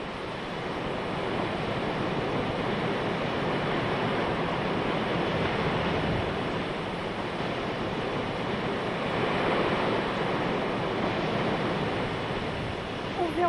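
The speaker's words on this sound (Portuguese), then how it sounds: "As águas despencam por esses paredões, como na Cachoeira do Véu da Noiva." Rushing water of the Véu da Noiva waterfall in Chapada dos Guimarães, Brazil, a 30-metre free fall down sandstone cliffs, a steady broad roar with no break, loud and continuous throughout.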